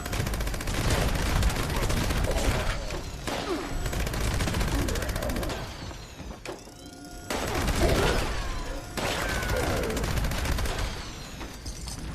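Sustained minigun fire in Fallout 76, a dense rapid stream of shots that runs loud for most of the stretch, with brief pauses and a couple of short gaps before resuming.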